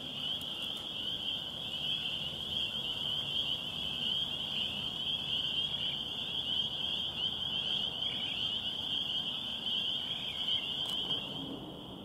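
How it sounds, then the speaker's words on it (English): Gray tree frog calling outdoors in Michigan in spring, a continuous high trilling chorus that holds steady and fairly loud for the whole stretch, with no voices. "First gray tree frog this year that I'm hearing."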